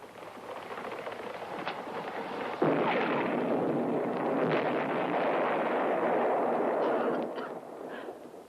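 Explosions rumble and burst inside a cave, with a sharp blast near the start that gives way to a sustained roaring wash that fades out near the end.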